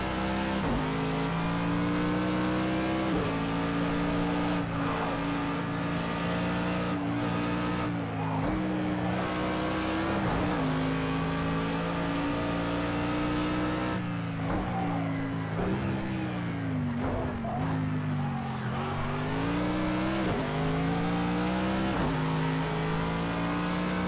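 A race car engine in Project CARS 2 on the Nürburgring roars loudly and continuously, revving up through gears with repeated shifts and downshifts, swelling and dropping in pitch, with no talking.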